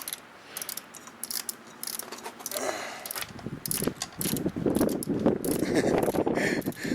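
A socket wrench ratchets with rapid clicking while spark plugs come out of a 1976 Honda CB750A Hondamatic motorcycle, close and fairly quiet, the clicks growing busier and louder with metallic handling toward the end.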